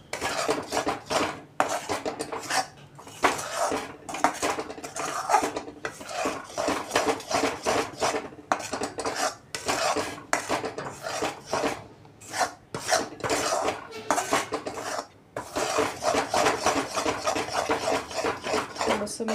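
A spoon scrapes and rasps continuously against a pan while a thickening kaju katli cashew mixture is stirred, producing rapid rhythmic scraping strokes close to the mic, broken by a few short pauses.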